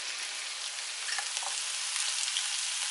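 Pork ribs and peppers sizzle steadily on a hot griddle, a dense, even crackle of frying fat that holds at the same level for a few seconds with no talking.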